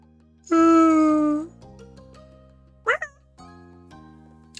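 A person imitates a cat with one long, loud, drawn-out meow up close, followed by a short vocal yelp and quiet background hum.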